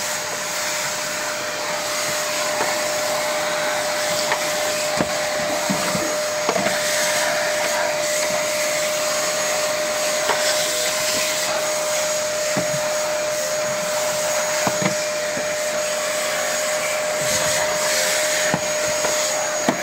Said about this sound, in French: je vais tout aspirer, ça va faire du bruit